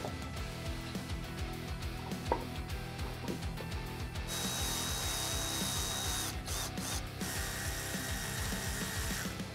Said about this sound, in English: it's time to get the caliper on